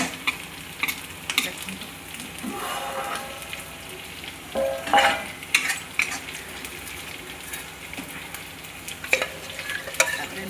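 Onion tempering (chhaunk) sizzles in hot oil under a continuous, close frying hiss, with irregular stirring scrapes and light clinks of a utensil against the pan throughout.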